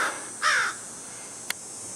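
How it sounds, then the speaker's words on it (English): A crow caws outdoors in a wooded area in winter, giving two short harsh calls close together, followed by a single sharp click against quiet background hiss. "Mr. Crow. Of course, it could be a raven for all I know."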